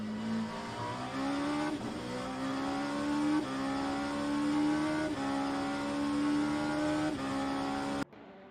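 LMP2 prototype race cars at Sebring in a racing video game scream through a run of rising engine revs, the pitch climbing and dropping with each gear change, loud and close, with no talking.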